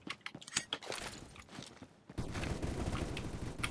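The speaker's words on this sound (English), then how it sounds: "Just listen to this loud, deafening gun. This is a sniper," Loud sniper-class pistol, the SAS, firing in the shooter Phantom Forces: sharp cracking reports in an uneven run, then a dense, sustained roar of layered gunfire and mechanical clatter filling the rest, with no talk.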